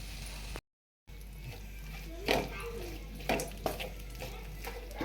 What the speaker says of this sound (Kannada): ಗರಂ ಮಸಾಲ ಹಾಕಿ ಒಂದು ಎರಡು ನಿಮಿಷ ಮಿಕ್ಸ್ ಮಾಡ್ಕೊಬೇಕಾಗುತ್ತೆ